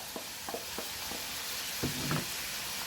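Sausage frying in a pan at home, a soft steady sizzle with a few faint scraping stirs, quiet and close, with no talking.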